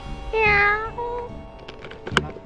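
A single clear cat meow rises briefly and fades, followed by faint clicks and a sharp tap in a quiet space.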